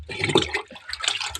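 Water is poured over a pig during a bath, coming in two quick splashing bursts with a short gap between them, close by.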